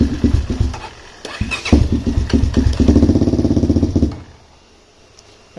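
A tuned Honda DVX400 ATV engine runs loud and close, revving in uneven bursts with a steady idle throb between, then cutting down to quiet near the end.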